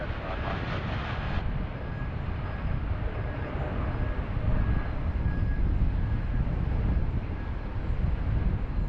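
A Jetstar airliner lands on runway 16 right at Sydney Airport, a steady broad roar that swells gradually and stays at a moderate distance throughout, with no voices.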